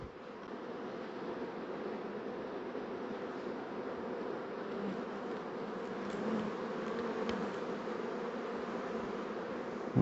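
Bees in a hollow log hive give off a steady, dense buzzing drone, close and even throughout, with a slight swell near the end.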